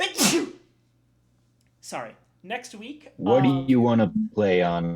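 A single sharp sneeze bursts out at the start, followed by a pause and then people talking nearby.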